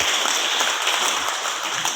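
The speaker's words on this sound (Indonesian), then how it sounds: "Tepuk tangan untuk beliaunya berempat." Audience applause for four guests at the opening of a school principal training event in Blitar, a steady, dense clapping from a crowd at moderate loudness for two seconds.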